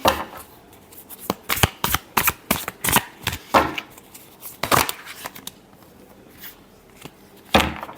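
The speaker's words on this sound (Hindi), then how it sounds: "एक लास्ट शफल देखते हैं।" Tarot cards shuffled by hand, a series of close, crisp riffling bursts in an irregular rhythm, loudest early on and then sparser, with no talking.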